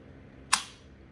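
A Walther P99AS pistol's striker snaps in a single sharp dry-fire click as the trigger is pressed, close and crisp, then decays quickly into quiet.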